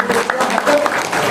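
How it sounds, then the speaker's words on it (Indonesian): Short burst of audience applause at a business seminar, dense steady clapping blended with some crowd murmur and voices, fairly loud throughout. "Boleh tepuk tangan."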